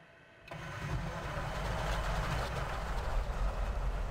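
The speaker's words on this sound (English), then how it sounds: "All right, let's start it back up again." A CAC-25 Winjeel aircraft engine in a flight simulator game cranks and catches after a brief quiet moment, then settles into a steady, loud rumbling idle with no voices.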